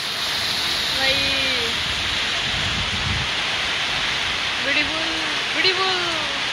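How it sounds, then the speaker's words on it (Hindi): Heavy rain with hail pours down in Bir as a loud, steady roaring hiss. Faint voices rise briefly over the downpour. "पूरा बारिश हो रही है हाँ ओले भी पड़ रहे हैं"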